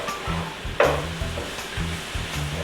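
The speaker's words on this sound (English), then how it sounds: "now I'm gonna go ahead and add the onions." Chopped onions hit a hot pan while cooking mushroom julienne, giving a sudden burst of steady sizzling with some stirring, close and moderately loud, with no talk.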